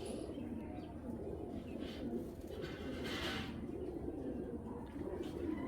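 Racing pigeons in a loft coo softly and continuously, low murmuring calls layered over one another, fairly faint, with a brief brighter chirp rising midway and steady room noise beneath.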